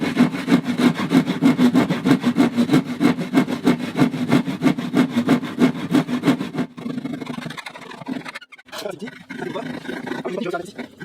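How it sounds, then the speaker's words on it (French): Rapid, rhythmic rasping strokes of a hand saw cutting through aluminium, loud and close, then stopping into quieter handling noises. "je commence avec la petite lame de scie à métaux"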